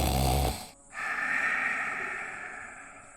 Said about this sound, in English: She calls louder, only snoring replies.